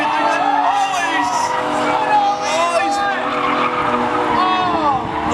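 Drift cars skid through clipping points at a drift competition, with tire squeal and engine roar sweeping continuously and a crowd faintly in the background.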